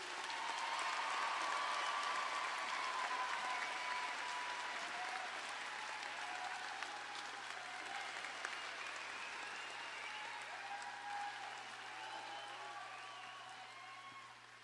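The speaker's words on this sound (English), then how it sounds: "please give a big round of applause for our wonderful doctoral students" Sustained audience applause for new doctoral graduates at a university graduate degree hooding ceremony, a broad steady wash of clapping from a large crowd that holds for the whole stretch and thins slightly toward the end.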